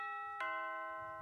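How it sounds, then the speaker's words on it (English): A single bell strike rung on stage during a school production of The Wizard of Oz, its bright tone ringing on with steady overtones and slowly fading, with no talking. "Who rang that bell?"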